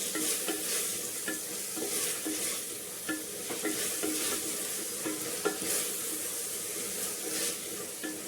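Fresh field beans (avarekalu) fry in a pan with a continuous soft sizzle and steady, repeated stirring scrapes. Fairly quiet, with no talking.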